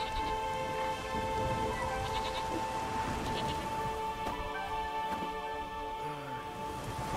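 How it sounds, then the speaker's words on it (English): Steady rain pours down in The Witcher 3, a dense continuous hiss that runs the whole stretch, with faint sheep bleats and soft background sounds mixed in and no clear speech. "There's no point standing here in the rain."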